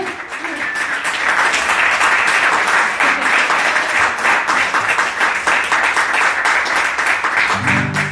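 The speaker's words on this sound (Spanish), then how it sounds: "Un aplauso" Sustained audience applause at a concert, after a singer asks for it before a farewell song, loud and dense throughout with some crowd voices mixed in.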